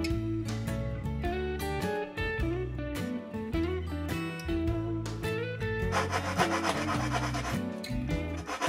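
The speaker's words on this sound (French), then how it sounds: "Un petit coup de ponçage sur les arêtes pour enlever les petites bavures" Sanding along the edges of a wooden RC plane fuselage part to remove small burrs, steady rasping strokes under loud continuous music.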